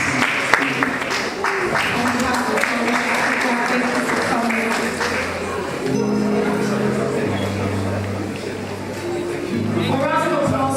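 An audience claps and applauds steadily at an event, mixed with music and voices in a busy hall.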